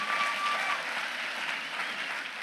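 A crowd at a graduation ceremony applauds steadily, a dense wash of clapping hands that stays even throughout, with no talking over it.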